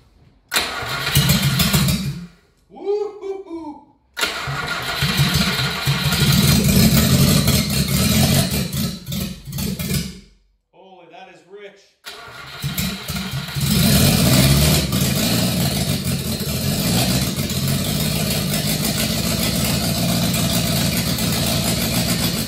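A Subaru Sambar engine with a freshly hooked-up distributor cranks in bursts, stumbles and cuts out twice, then catches and settles into a loud, steady, close idle that runs on alone.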